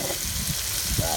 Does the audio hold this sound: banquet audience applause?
no